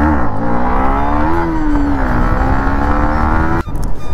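A motorcycle engine revs hard and close up before a wheelie, with a loud droning note that rises and falls and then drops briefly near the end.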